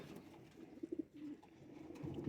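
Zakh pigeons coo softly and steadily, a low throaty burbling with a few louder pulses in the middle, close by with a faint background hum and no talking.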